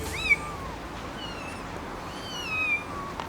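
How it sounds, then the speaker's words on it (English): Stray cats meow on an Istanbul street, with two or three clear, drawn-out meows spread over a quiet outdoor background. "They have a ton of stray cats here, and they're chilling everywhere"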